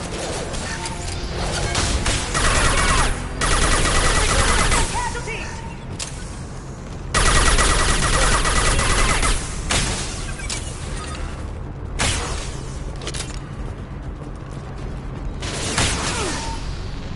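Chaotic firefight from the Mass Effect 2 video game, with loud bursts of weapon fire, crashes and mechanical clatter coming in waves, mixed with game effects and occasional voices.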